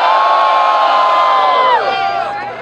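A rap battle audience roars, cheers and shouts loudly and steadily, then the noise begins to taper off toward the end.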